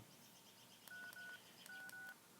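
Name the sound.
old phone keypad beeping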